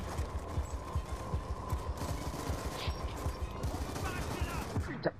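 Video game gunfire from Black Ops 2, a steady crackle of rapid shots and bursts throughout, with a constant hum underneath and faint talk mixed in.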